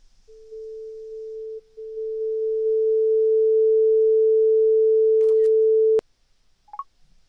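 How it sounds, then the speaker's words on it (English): An iPhone scanner app gives off a steady tone for several seconds as the phone is lifted, growing louder before stopping abruptly, followed by a soft click. "I'm going to lift this up and you can hear a tone in the background once I lift it up."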